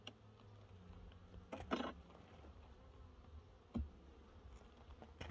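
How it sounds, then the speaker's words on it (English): A yellow jacket robs a beehive, its faint buzzing drifting in and out against quiet outdoor background, with a couple of brief soft bumps. "there's just a yellow jacket right here"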